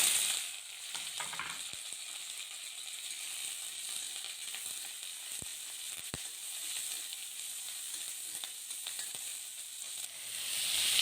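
Sliced onion, a dried red chili and curry leaves fry in hot oil for a ragi semiya dish, giving a steady close sizzle with occasional crackles and pops throughout, with no talking.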